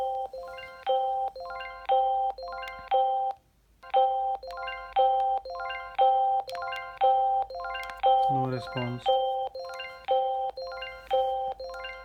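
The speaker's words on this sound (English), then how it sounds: "This is Arlo Baby. It's not stopping. It's making noise and noise and noise." An Arlo Baby monitor sounds a two-tone electronic chime over and over in a steady rhythm, loud and close, with a short gap once, while a voice speaks briefly over it midway.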